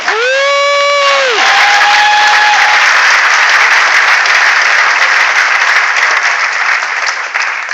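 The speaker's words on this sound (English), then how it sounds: "I'd like everybody in here to give you a round of applause" A comic convention crowd gives loud, sustained applause with cheering and whoops, dense and close; a drawn-out shouted voice rises at the start.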